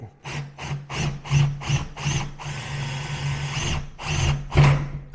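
A power drill with a 16 mm bit grinds through a wooden door in short repeated bursts, then one long steady run, close and loud with a constant motor hum underneath.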